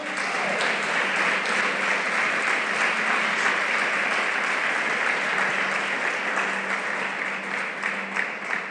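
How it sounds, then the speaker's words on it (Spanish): A church congregation gives the Lord a long, loud round of applause, a dense steady clapping that fills the whole stretch without a break. "¿Cuántos agradecidos hay acá que le den un aplauso fuerte al Señor?"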